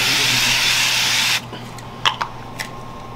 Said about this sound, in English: You could spray more on top. of the duck fat.